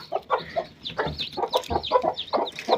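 A hen clucks in short, rapid bursts alongside high, thin peeps from her newly hatched chicks, all close and lively in a farm setting, with no talk.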